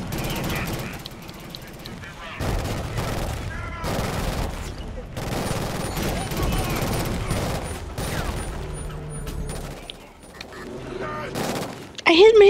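Repeated gunfire bursts from the video game Killzone Shadow Fall, dense and continuous across the scene, mixed with game sound effects and voices talking over the shooting.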